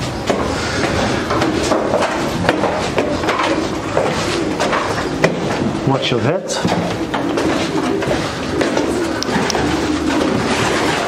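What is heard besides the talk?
racing pigeons cooing in a loft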